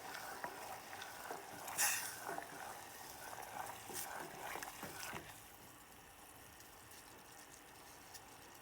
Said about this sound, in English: And my glaze is boiling nicely.